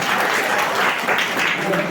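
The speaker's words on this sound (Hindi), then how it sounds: "जोरदार ताली बजाइएगा" Students and guests at a school Independence Day celebration at a government inter college clap loudly, a dense, steady burst of applause that fills the hall, with some voices mixed in.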